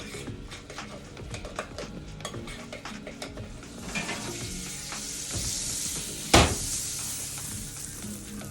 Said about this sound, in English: My butter is melted, so I'm just going to maneuver it around in my pan